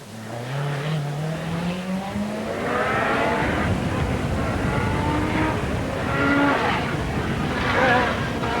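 A 1986 RAC Rally car drives through a stage toward a left-hander and downhill swoop, its engine note rising and falling steadily with loud, continuous revving that swells and fades.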